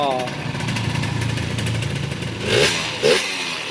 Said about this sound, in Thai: กำลังเครื่องดี ทุ้มเสียงดูดี เครื่องยนต์ไม่มีอะไรผิดพลาด ไม่มีเสียงข้อเหวี่ยง